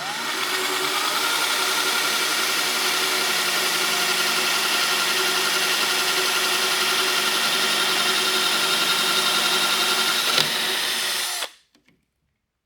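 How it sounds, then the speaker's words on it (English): A power drill whirs continuously at high speed for about eleven seconds, boring into the wood of a vintage guitar, then stops abruptly, leaving silence. "that should be enough wood for my drill to bear into"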